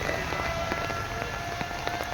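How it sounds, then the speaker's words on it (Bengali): Steady monsoon rain falling, a dense, even patter with scattered heavier drops, moderately close and without talk. "আর বর্ষাকালে বৃষ্টি কিন্তু হঠাৎ নেমে যায়।"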